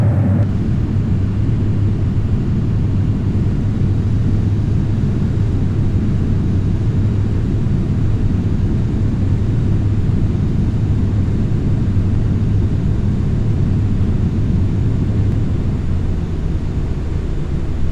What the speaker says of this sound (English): Right now I'm taking off from Snohomish County Airport in Everett, Washington.